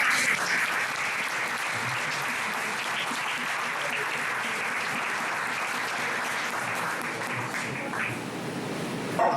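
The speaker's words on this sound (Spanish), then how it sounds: "Un aplauso fuerte al Señor." Congregation applause during a Sunday church service, loud continuous clapping from a full room, steady and unbroken for the whole stretch with faint voices mixed in.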